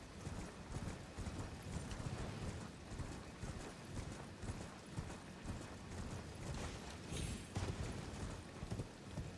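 Horse hooves clip-clop along a road in the Elden Ring video game, a quiet, steady run of hoofbeats at a brisk rhythm with faint mechanical clinks, heard alone without talk.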